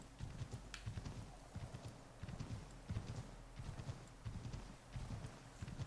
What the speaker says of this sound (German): Mir gefällt, dass das Pferd durch so einen riesigen Schnee laufen kann